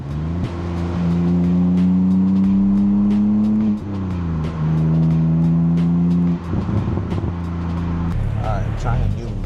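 A BMW E85 Z4 3.0si fitted with a G87 M2 titanium exhaust, downshifting with rev-matched blips, loud close exhaust drone rising and falling in steps, then a lower burble near the end.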